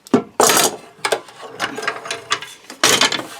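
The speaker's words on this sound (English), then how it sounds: "we're now just going to take off all the clamps" Clamps come off a glued-up Telecaster guitar body: ratcheting, clicking clamp mechanisms and knocks against wood in several close, loud bursts, with no one talking.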